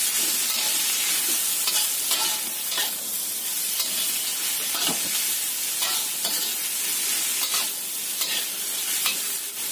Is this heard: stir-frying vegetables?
yes